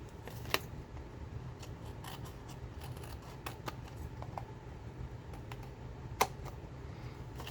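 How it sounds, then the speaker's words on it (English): Scissors snip off excess paper while a paper folio is being made, giving soft close cuts and small clicks with a couple of sharper snaps over quiet background hiss, with no talk. "Cut off that extra before I glue this thing down."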